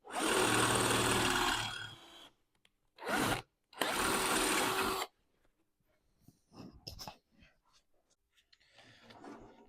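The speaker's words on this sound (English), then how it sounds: "So I'll drill a pilot hole first, and then we'll drill a larger hole." A power drill whirs loudly in a few bursts, one long and two short, drilling a pilot hole on a classic Unimog, then stops, leaving faint clicks and handling noises.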